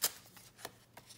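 Paper material being torn by hand while crafting a snippet, heard as a few short, close rips and crinkles in quick succession, soft overall.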